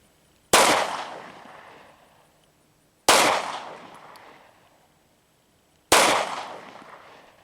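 Three sharp pistol shots from a Smith & Wesson M&P Shield 2.0, evenly spaced about three seconds apart, each a loud crack with a decaying outdoor echo and no talking between them.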